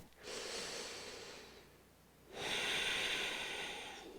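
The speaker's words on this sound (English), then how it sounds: "We'll take one more full breath." A full, deep breath during a beginners yoga session: a long airy inhale, a brief lull, then a stronger drawn-out exhale, close and breathy with no voices.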